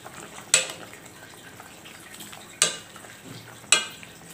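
Water spinach being stirred into a simmering Jakarta-style tamarind vegetable soup, sayur asem, with three sharp utensil clacks against the pot over a quiet bubbling background.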